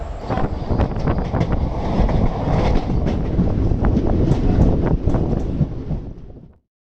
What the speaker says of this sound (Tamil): Trivandram Chennai Superfast Express, Ernakulam Town, ഒന്നാമത്തെ പ്ലാറ്റ്ഫോമിലേക്ക് വന്നുകൊണ്ടിരിക്കുന്നു.